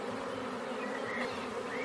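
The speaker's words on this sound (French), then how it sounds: "La grande fête des abeilles ce mois de mai," Honeybees swarming around a crowded hive in a village orchard during May, giving a steady, dense buzzing drone that stays loud and continuous throughout, with no voices.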